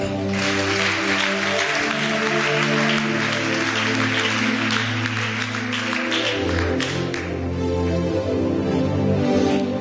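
A church congregation applauds steadily throughout, its dense clapping mixed with music and sustained tones from the service.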